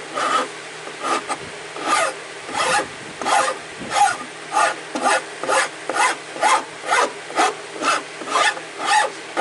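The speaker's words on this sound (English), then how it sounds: "if I do it with the file cuts just enough roughness in there that the sandpaper can handle it pretty nicely" A metal file rasps across a wooden bench seat in steady repeated strokes, about fifteen rhythmic back-and-forth scrapes, close and clear with no talking.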